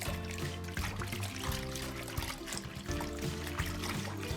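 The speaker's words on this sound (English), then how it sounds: "Then mix the water and everything you put in it together." Water in a home foot bath is stirred together with lavender aromatherapy oil, giving a steady trickling and pouring swirl that runs continuously throughout, with small splashy bursts and no talking.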